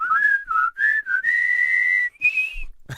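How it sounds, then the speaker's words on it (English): Several melodic whistled tunes from a radio countdown medley of hit songs that feature whistling, played as clear, sustained lines with short gaps between phrases and no talking over them. "we all love those songs that already have whistling on them"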